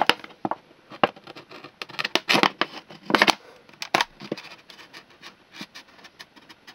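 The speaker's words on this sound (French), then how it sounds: "Ces pales, vous allez avec un cutter venir les découper." Blades being cut out with a utility knife for a homemade mole repeller, a series of irregular close crisp scraping and snipping strokes, some sharp and loud, others faint, with no talking.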